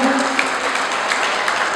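An audience applauds at the 25th anniversary celebration of PSMTI NTB, giving steady, dense clapping with a few sharper claps standing out.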